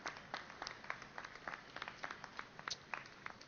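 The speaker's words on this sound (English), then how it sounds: "big round of applause. They deserve it." A round of applause at a city hall gate unveiling ceremony, with scattered individual claps standing out from a thin, modest crowd at a moderate distance.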